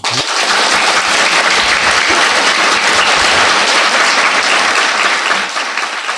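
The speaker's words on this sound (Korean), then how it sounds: "캐나다에 계신 박사님에게 또 박수 한번 부탁드립니다" A roomful of people applauds steadily, a dense, loud wash of clapping that starts abruptly and continues evenly for several seconds before cutting off.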